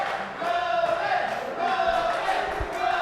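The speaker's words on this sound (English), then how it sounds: "This crowd getting behind the Juggernaut John Rodin" A wrestling crowd at an indie show in Grind City cheers for a fan favorite, a continuous wash of massed voices and shouts swelling slightly throughout, with a few low thuds underneath.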